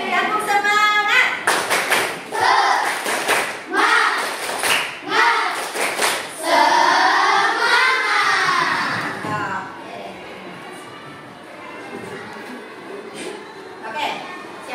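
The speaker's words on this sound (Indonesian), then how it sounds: "Kita tepuk semangat dulu, oke? Tepuk semangat." Rhythmic group clapping in quick patterned bursts, mixed with children's chanting voices, followed by steady talk.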